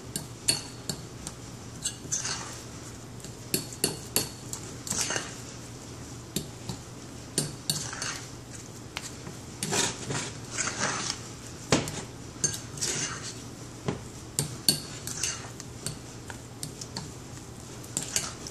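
Cassava dough for fried bolinhos gets mixed in a bowl, a steady run of close utensil clinks and scrapes against the bowl in irregular bursts, with no talk.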